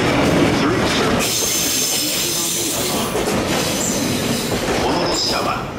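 A train rolls through Omiya station with a loud, continuous rumble, clattering wheels and a high squeal from the rails, and nobody speaks.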